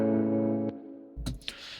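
A clean electric guitar chord rings out with a shimmering chorus effect, then a few short picked notes and muted strums follow.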